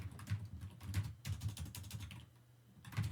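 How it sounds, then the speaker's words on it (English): Rapid keystrokes on a computer keyboard clatter in quick bursts with a brief pause, close and fairly faint, with no voices present. "let's type a comment over here, save, open the file"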